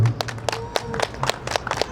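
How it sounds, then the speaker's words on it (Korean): An audience at a Korean gathering claps, scattered individual hand claps at fairly low level, quick and uneven with a few sharper slaps standing out. "앞에 계신 분들이 박수 한번 쳐주시죠. 박수."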